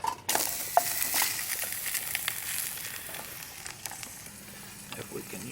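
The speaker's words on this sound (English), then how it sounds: "We're gonna give the pan a little dose of olive oil for frying up the ham steak there." Ham steak frying in olive oil in a pan set over a campfire gives a steady, fairly soft sizzle and crackle that lasts the whole stretch, with small pops scattered throughout.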